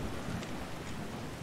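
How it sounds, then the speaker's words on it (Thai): Steady rain pours down in Skyrim, a dense, even wash of falling drops with a faint rumble beneath it, continuous and moderately quiet throughout the short stretch. "ฝนทำไมตกแค่ข้างหน้ากู"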